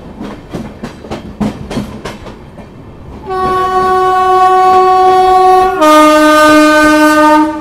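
The Garib Rath Express, an LHB-coach train hauled by a WDP-3 diesel, rolls along with rhythmic clickety-clack of wheels over rail joints. A loud, sustained horn then sounds and shifts to a higher pitch, and no one speaks.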